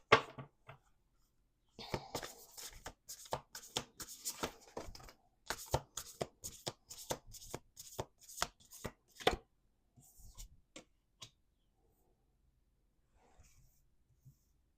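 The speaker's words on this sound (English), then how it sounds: "One more shuffle." Oracle cards are shuffled in a long run of crisp, rapid riffling bursts, close and fairly quiet, followed by a few scattered taps and then near silence.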